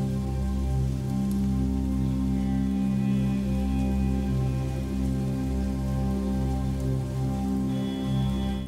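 Steady rain falling without pause inside an abandoned, fire-damaged mansion, pouring through the ceiling, with a low sustained droning tone underneath and no voices.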